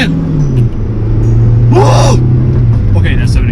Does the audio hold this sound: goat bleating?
no